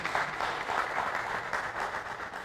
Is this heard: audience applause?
yes